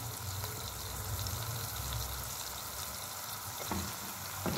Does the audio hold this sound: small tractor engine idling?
no